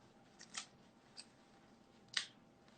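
Scissors cut kale in a quiet room, making three or four soft, crisp snips spaced irregularly over a few seconds.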